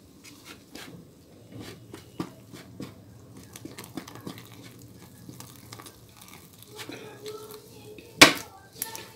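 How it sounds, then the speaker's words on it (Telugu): Henna powder being mixed with beetroot juice into a paste, giving soft intermittent scraping and tapping of a utensil in a bowl with one sharp knock near the end. "ఇప్పుడు మనం ఈ బీట్రూట్ రసాన్ని తీసుకుని ఈ హెన్నా పొడిలో వేసుకుని పేస్ట్లా కలిపేసుకోవాలండి."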